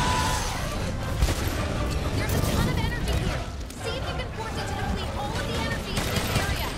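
Bowgun shots keep pushing the monster Safi'Jiiva in Monster Hunter World: Iceborne, a dense run of rapid booming blasts that continues through the whole stretch, close and loud, with speech mixed in.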